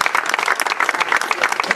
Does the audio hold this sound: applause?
yes